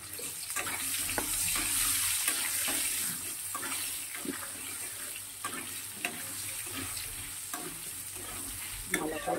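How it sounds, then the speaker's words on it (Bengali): Oil tempered with cumin seeds sizzles steadily in a pan with salt and turmeric, close and continuous, with scattered scrapes and taps of stirring, and no voices. "ভালো করে ভেজে নিয়ে"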